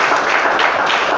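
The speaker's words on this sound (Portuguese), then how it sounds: "Vamos aplaudir o Senhor, vamos glorificar." A church congregation claps in praise during a sermon, a brief, dense burst of applause close and fairly loud.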